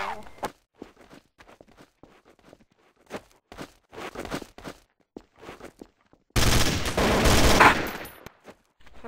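Gunfire bursts out in Zombie Panic Source: a loud, dense stretch of rapid shots near the end, after a run of sparse footstep-like taps and short sounds.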